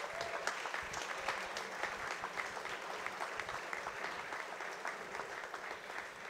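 Dense, sustained clapping from a school audience of parents and students at a semester awards presentation fills the room evenly, with many hands blending into a steady roar and no speech over it.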